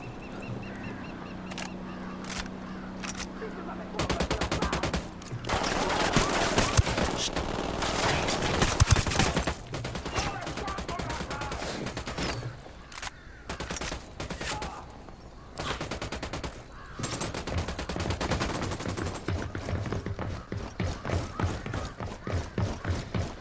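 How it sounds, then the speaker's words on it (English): Bursts of automatic gunfire and rapid volleys from a Ghost Recon Wildlands firefight, loud and dense, coming in several long stretches with brief pauses between them. "Opening fire on these fuckers."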